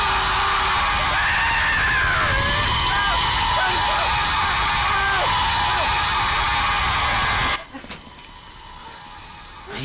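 A robot with an electrical fault screams in a long, loud, wavering shriek over a rumbling background that cuts off abruptly near the end, leaving quieter noise.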